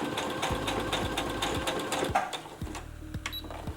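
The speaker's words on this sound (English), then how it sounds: "see how many layers it can actually sew through leather" A computerized Brother Strong & Tough sewing machine runs steadily, its rapid mechanical stitching loud and close, with periodic thumps as the needle punches through layers of leather.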